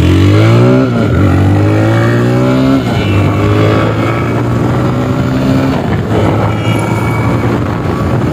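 A TVS Raider or Bajaj Pulsar motorcycle is ridden in a close, loud engine drone that rises through several gear pulls, interrupted by brief shift dips, with wind noise over the microphone.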